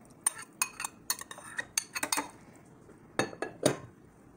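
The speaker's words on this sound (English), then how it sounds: "Now we're gonna mix the eggplant, the mushrooms," Eggplant, mushrooms and onion tossed together in a bowl for veggie burgers give a scatter of irregular clinks and scrapes of utensil against dish, close and alone, in bursts with a short pause midway.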